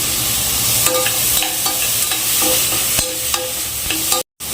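Ginger garlic paste and vegetables frying for a simple kids' pulao while being stirred in a pan: loud steady sizzle with regular scraping strokes of the spoon, a brief cut to silence near the end, no talking.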